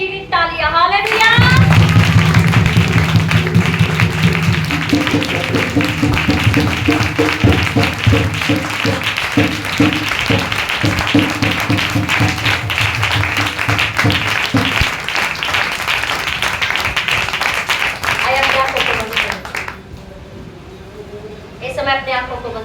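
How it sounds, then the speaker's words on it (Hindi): A Sunday church congregation applauds God for a sustained stretch, a dense wash of clapping blended with loud music and voices that fades out near the end. "तो जीवित परमेश्वर के लिए जीवित तालियां।"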